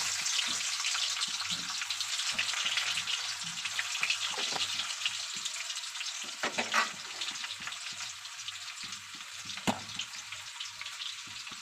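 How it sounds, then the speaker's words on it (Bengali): Crushed garlic and nigella seeds sizzle in hot oil, a steady close crackle running the whole time with a few louder pops and stirring scrapes. "এইবার আমি থেতো করা রসুনটা দেব।"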